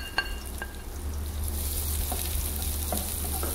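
Shallots and garlic stir-fry with anchovies in a hot pan, giving a steady close sizzle and crackle with a few light scraping stirs and no voices.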